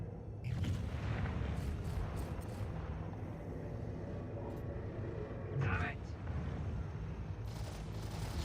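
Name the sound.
ship taking weapon fire in video game Star Citizen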